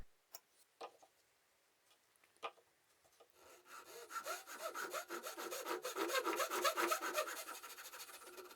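A wooden saw handle is hand-sawn to widen a slot, first a few sparse taps and knocks, then a steady rhythmic rasp of back-and-forth saw strokes that grows louder and closer.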